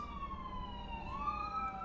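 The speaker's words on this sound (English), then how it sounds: "But sirens like this, I wish there was a way to like localize their noise to not penetrate through buildings." An emergency vehicle siren wails outside, carrying in through an open door, faint and distant with a steady rising and falling tone and no voices over it.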